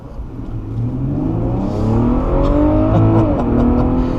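A 2014 Infiniti Q50S Hybrid AWD accelerating hard from a rolling start, its engine note rising steadily in pitch and loudness as it pulls, heard from inside the cabin with no talking.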